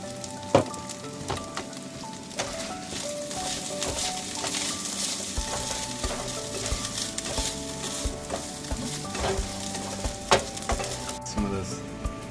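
Steady sizzle of food frying in a pan with sun-dried tomato, with clinks of stirring on top and a kitchen fan droning behind, heard close throughout.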